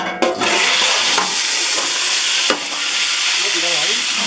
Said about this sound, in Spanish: volvemos para echar todo lo que está en el otro sartén en este sartén